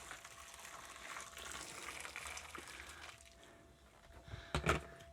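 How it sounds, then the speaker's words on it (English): Hot water poured from a boiling pot into a bucket for home brewing, a faint continuous gushing and splashing that thins out toward the end, closing with a couple of louder clunks. "I'm going to pour hot water over it"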